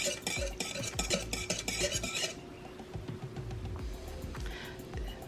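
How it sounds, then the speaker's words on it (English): A whisk scrapes and clatters rapidly against a bowl while yeast is mixed for pull-apart dinner rolls, the quick rhythmic beats loud and close for about two seconds before fading into quieter, sparser stirring. "now I'm gonna whisk it all together"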